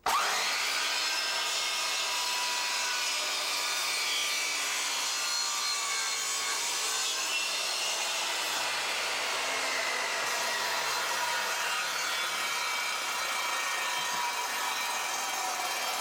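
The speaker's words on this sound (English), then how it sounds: "So hold it firmly, safety glasses, and away we go." A saw bevel-cutting MDF on a Triton Workcentre, a steady, loud, continuous cutting whine with dense rasping that runs unbroken for the whole stretch, close by and with no talking.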